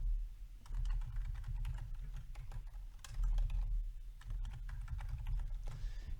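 Steady keyboard typing on a computer while a password is entered, a run of quick close key taps with brief pauses over a low room hum, no talking.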